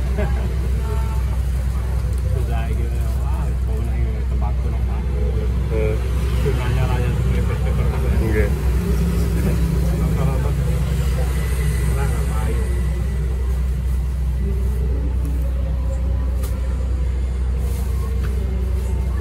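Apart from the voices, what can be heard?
bus engine running nearby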